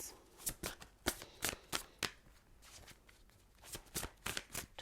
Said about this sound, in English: I'm going to shuffle and see if another card wants to come out of spell casting.